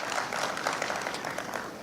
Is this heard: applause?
yes